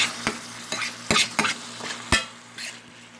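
Ground pork sizzles steadily in a pan on very high heat while a utensil scrapes and taps against the bottom at irregular intervals, breaking up the meat; no voices.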